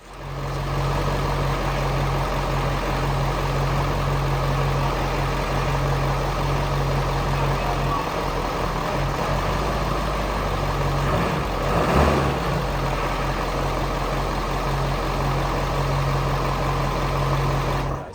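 A 7.3 Powerstroke diesel truck engine runs steadily near a barn, a continuous loud, low idle clatter with a brief shift in tone midway and no voices.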